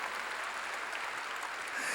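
Congregation applauding in a church service, a steady dense wash of clapping from many hands that fills the space evenly from start to finish, moderately loud.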